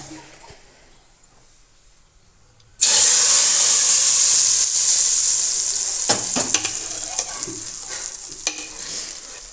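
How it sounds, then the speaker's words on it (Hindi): Quiet at first, then a sudden loud hiss and crackle as tempering spices and red chilli powder hit hot oil for dal makhani, sizzling steadily and slowly fading, with occasional stirring clinks. "अब हम छौंका लगाएंगे।"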